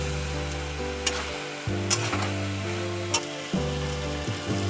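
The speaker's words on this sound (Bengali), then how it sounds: "মেথি শাক দিয়ে আবারও কষাতে থাকবো।" Fenugreek greens being stir-fried in a pan give a steady sizzle, broken by a few sharp scrapes and clanks of stirring, with an electronic tone humming beneath throughout.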